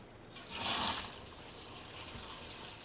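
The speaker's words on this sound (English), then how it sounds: "as our tank fills up here" Water trickling and pouring into a translucent poly tank of a Chapin ATV sprayer, a steady close liquid rush that swells briefly near the start and then settles into a constant flow.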